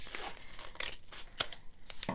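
A blade slices through a paper tag in a few quick snips, crisp and close, with soft rustling of paper between cuts.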